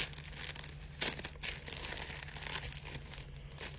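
A packet of charcoal is cut open, giving close, quiet crinkling and tearing of packaging in irregular bursts over a low steady hum, with no speech.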